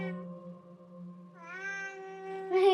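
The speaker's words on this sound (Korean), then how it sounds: "고양이 소리 들어봐" A cat meows in a long drawn-out cry with a rising, wavering pitch, close and clear, ending in a brighter upward call.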